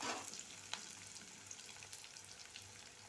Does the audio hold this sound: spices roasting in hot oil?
yes